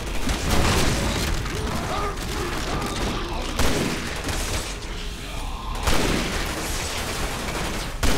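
Gunfire in Resident Evil 6 during Ada's campaign: dense, continuous rattling bursts of shots and mechanical clatter fill the mix loudly, with brief breaks between volleys.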